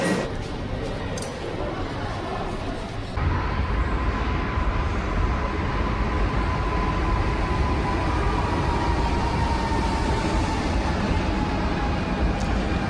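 Regional trains pull in and out of a busy Polish station on a route between Łódź and Wrocław. Loud, continuous rumbling and wheel noise swell after a quieter start, with a long metallic squeal running underneath.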